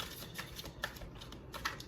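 A tarot card deck is shuffled, giving quick crisp flutters and light taps of cards at close range, repeating irregularly for a couple of seconds with no voice.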